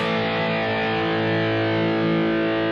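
A Hotone guitar amp pushed into heavy distortion with the boost engaged, turned up to 12 on the gain, rings out as one thick, sustained chord that holds loud and steady for the whole stretch, with no talking.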